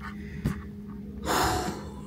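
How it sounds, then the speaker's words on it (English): Heavy, winded breathing from a person who has just climbed six floors of stairs in an office building, with a sharp gasp near the start and a longer, louder exhale after about a second, close and without talk. "I'm a little out of breath because I take the stairs."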